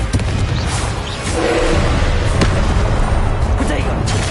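Confringo spells blast in Hogwarts Legacy, loud booming bursts set in a dense, rumbling battle din. A voice talks over the explosions.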